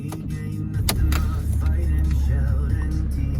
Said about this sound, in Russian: Первый пуск. Машина еще не пускалась.